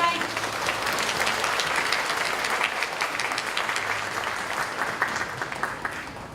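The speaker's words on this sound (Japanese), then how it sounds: "皆様盛大な拍手をお送りください。" Audience at Nepal Day during World Expo 2025 in Osaka claps in sustained, dense applause that holds steady and eases slightly toward the end.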